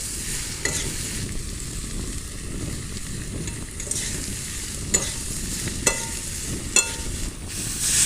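Fried potatoes with Kashmiri chili are stirred and sautéed in a kadai for a duck egg curry, giving a steady close sizzle broken by a few sharp spatula scrapes and clicks.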